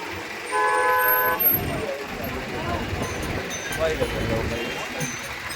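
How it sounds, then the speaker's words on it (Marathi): A vehicle horn blares in a long held toot amid a traffic jam on the road near Jejuri during the 2024 palkhi procession, followed by engine rumble and a busy jumble of traffic noise, while someone talks nearby. "आणि जेजुरीच्या मध्यंतरी मी उभा आणि एवढं जाम ट्रॅफिक लागलं आहे"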